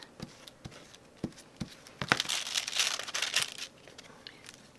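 Old scrapbook paper being trimmed and handled up close, giving a run of crisp rustling and crinkling with a few sharp snips, busiest in the middle of the stretch.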